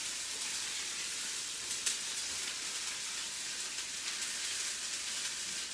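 Ginger garlic paste sizzling in a frying pan while cooking Parsi papeta par eedu, a steady even hiss of hot oil close by with no talking.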